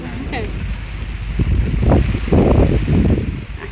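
Wind gusts across open countryside near paddy fields in Kollengode, Palakkad, during rainy weather, buffeting the microphone with a low rumbling roar that swells strongest in the second half.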